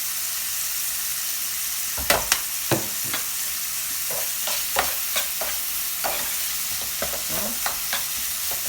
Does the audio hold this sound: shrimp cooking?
yes